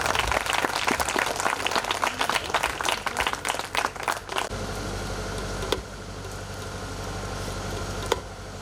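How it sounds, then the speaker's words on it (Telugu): Loud, dense applause from an audience at an open-air church anniversary gathering, steady clapping for about four and a half seconds, then settling into a quieter, even crowd wash with a couple of isolated sharp knocks. "ఒకసారి గట్టి కొట్టండి చప్పట్లు"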